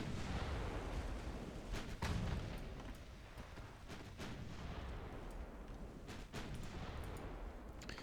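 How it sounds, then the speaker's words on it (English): Naval gunfire from 9-inch and 5-inch ship guns in the warship game Ultimate Admiral: Dreadnoughts, a faint, distant rumble of repeated booming salvos rolling on with sharper cracks now and then. "A couple of 9-inch guns, or 9-inch hits ought to do it."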